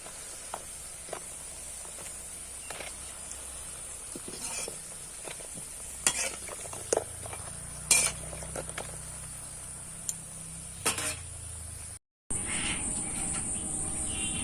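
Fuchka puris deep-frying and puffing in hot oil: a constant thin high sizzle with occasional soft pops and utensil taps, steady and close, ending in a brief gap before the frying resumes.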